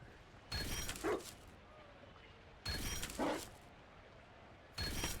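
A dog barks in Dragon Age Inquisition, three short bursts of yips and bow-wows spaced about two seconds apart, fairly close and loud over a low in-game ambient background.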